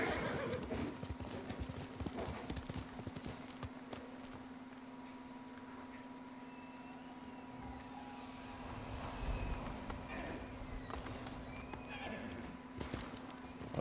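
Horse hooves clip-clop steadily in Ghost of Tsushima, with a horse whinnying amid constant game ambience and a steady hum, moderately loud and continuous throughout.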